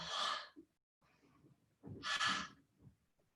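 Two loud, breathy exhales during a seated chair yoga flow, hissing strongly about two seconds apart, close to the mic, with softer breathing in between.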